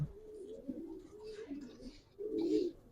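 Pigeons coo in soft, repeated throaty bursts, close by, with a fuller call near the end and faint background noise.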